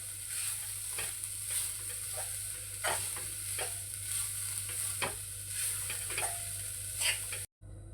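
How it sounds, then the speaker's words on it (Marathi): Grated fresh coconut being sautéed and stirred in ghee, a soft steady sizzle with repeated scraping strokes of a spoon against the pan at an unhurried rhythm, close and quiet without speech. "तुपावर आता आहे ना खोबरं चांगलं आपण परतवून घेऊया"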